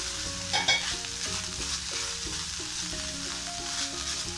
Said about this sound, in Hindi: और इसको मिक्स करेंगे।